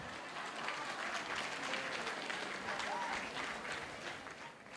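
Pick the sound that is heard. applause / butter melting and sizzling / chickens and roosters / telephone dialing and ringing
applause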